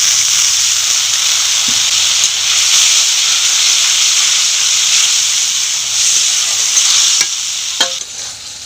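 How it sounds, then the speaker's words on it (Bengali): Cumin paste fries in a pan with a little water while it is cooked down for a snakehead fish recipe, a steady loud sizzling hiss with occasional stirring scrapes and clinks toward the end, no voices. "জিরা বাটা দিয়ে দেবো ভালো করে কষিয়ে নেব সামান্য জল দিয়ে দেবো"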